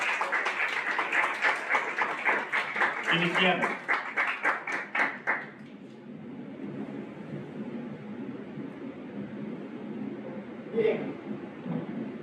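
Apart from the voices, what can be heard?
audience applause welcoming a speaker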